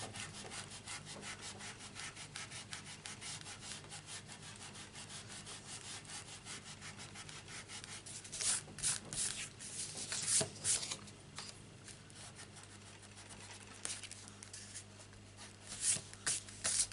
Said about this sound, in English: what we need now is a rubber. To rub this line out.